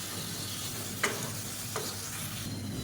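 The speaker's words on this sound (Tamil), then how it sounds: "சேர்த்து நல்லா மசிஞ்சு வர அளவுக்கு வதக்கிட்டுக்கலாம்" Chopped tomatoes frying with ginger garlic paste in a pan for a chicken side dish, a steady soft sizzle with two brief spoon scrapes against the pan.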